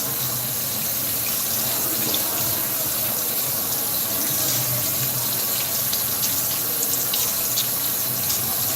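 Water runs steadily from a tap for hand washing at a sink, a loud continuous gushing hiss that goes on without a break.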